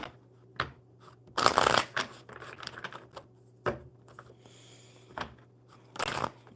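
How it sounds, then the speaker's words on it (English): Brisk riffle shuffles of a deck of playing cards, several bursts of fluttering snaps close by with short pauses of handling between them, no talk. "We'll get these cards shuffled real well."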